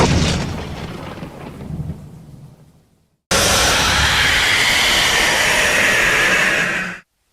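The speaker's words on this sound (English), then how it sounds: "followed up by a jump scare with the thunderstorm ambience music" Thunderstorm ambience from the Barney Error video game: a rumbling roar fades out, then after a sudden silence a loud, dense, steady wall of stormy noise slams in for several seconds before cutting off abruptly.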